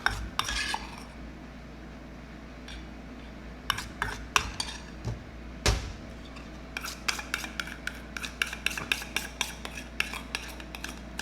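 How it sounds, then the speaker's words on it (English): A metal spoon scrapes and taps against a glass and bowl while scooping whipped Dalgona coffee onto a drink, a series of quiet, close clinks and scrapes that quicken into rapid small taps. "I'm going to grab a heaping spoonful, put that on top."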